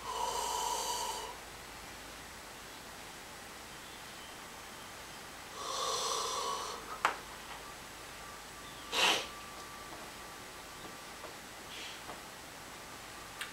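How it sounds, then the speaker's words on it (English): Mouth exhalations during yoga yawning come as a few breathy, airy bursts, two longer sighing breaths followed by shorter puffs, quiet and close against a faint background hiss. "I'm exhaling through the mouth, ha, or ah, or any sound."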